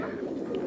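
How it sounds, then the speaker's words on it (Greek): Pigeons on the island of Santorini give a single soft, brief coo, faint against quiet outdoor background noise. "τα Περιστέρια αυτά που λέμε"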